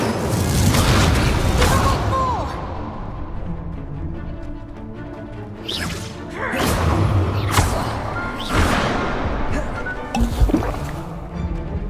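Incendio fire spells cast repeatedly in the Hogwarts Legacy video game, heard as loud whooshing bursts and booms that recur through a busy duel, with several sharp flares standing out.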